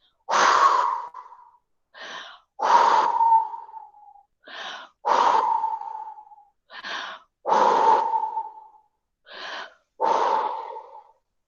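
Forceful exhalations through the mouth during a yoga breathing exercise, with six strong breathy bursts in a steady rhythm, each followed by a shorter, softer breath, heard close and clear with no talking.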